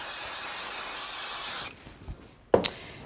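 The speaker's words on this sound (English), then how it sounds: "I think I'll just use a little bit of spray glue on the back." Spray glue hisses steadily onto the back of a craft frame for about a second and a half, then stops, followed by a couple of soft handling taps and a brief scrape.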